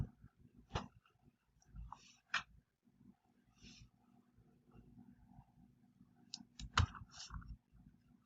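Computer mouse clicks, a handful of sharp, sparse taps spaced irregularly over a quiet room background, close and fairly faint, with no talk.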